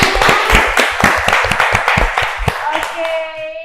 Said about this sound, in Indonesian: ini tepuk tangan dulu buat Gwestar kita.